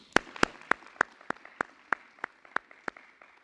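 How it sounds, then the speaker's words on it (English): A small audience at a governor's press announcement on rental funding gives a legislator a round of applause, heard as a dozen or so sharp, evenly spaced claps, close and distinct, with no talking over them. "Can we give her a round of applause,"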